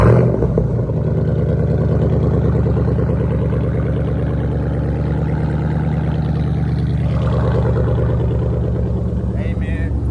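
A 510-horsepower SRT Jeep engine runs loud and steady from inside the cabin during a rainy drive, a deep continuous rumble holding for the whole stretch with little let-up and no talk over it.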